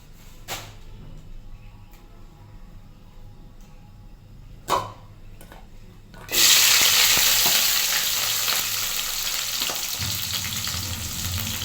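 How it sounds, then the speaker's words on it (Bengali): Oil sizzling and frying loudly in a wok for Bengali cauliflower fry, a sudden strong hiss starting partway through and continuing steadily, preceded by a few quiet clinks. "এই তো কড়াইতে তেল দিয়ে দিলাম।"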